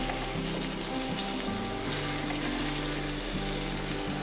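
Indian mackerel (bangda) frying Malvani style on a flat tawa over low heat, a dense continuous sizzle close up with steady bubbling crackle and a low hum underneath, no talking.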